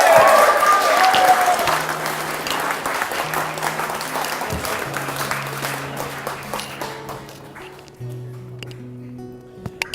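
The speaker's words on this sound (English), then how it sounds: "Give him a round of applause." Wedding guests clap warmly for a speaker during the wedding speeches, a loud burst of applause that thins and fades over several seconds while musical tones linger underneath.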